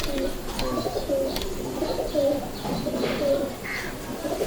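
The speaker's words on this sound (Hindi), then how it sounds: "आपने बहुत अच्छी हालत में रखे हुए हैं कबूतर" Feerozpuri and Rampuri pigeons coo in repeated soft, throaty bursts close by, with a few faint chirps mixed in.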